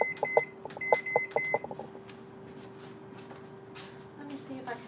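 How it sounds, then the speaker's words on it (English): Kitchen oven timer being set: a quick run of sharp electronic button beeps in two bursts, followed by a steady faint tone and light kitchen clatter. "Set the timer."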